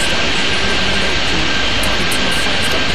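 Jet airliners roaring as they take off in the airport simulation game Airport Madness 3D at Boston, a loud, steady engine rumble and whine with no speech.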